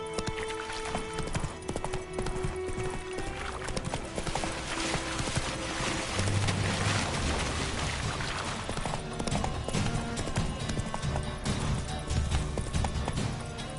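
A horse galloping in The Witcher 3, rapid rhythmic clip-clop of hooves under dense game ambience and music, steady and fairly loud throughout.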